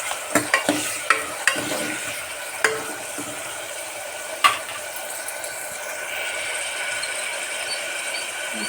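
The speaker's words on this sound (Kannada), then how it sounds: "ಇವಾಗ ಸ್ವಲ್ಪ ಟೊಮೆಟೊನ ಹಾಕ್ತಾ ಇದ್ದೀನಿ." Onions and tomatoes frying in oil in a pan for an avarekalu sambar, stirred with a utensil that scrapes and clacks a few times early on over a steady close sizzle.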